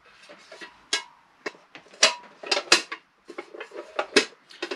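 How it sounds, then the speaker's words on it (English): Magnetic camping pans for motorcycle camping being pulled apart and handled, giving a series of close, sharp metallic clanks and clicks with short gaps between them and no talk. "Also, you can separate them, use them as two pans independent"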